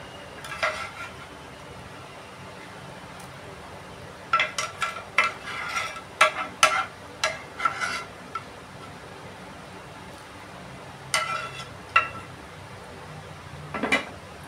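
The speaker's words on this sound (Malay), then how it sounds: "Dan bolehlah dikacau." A spoon stirs chicken soup in a pot, scattered clinks and scrapes against the metal in short bursts over a low background hiss.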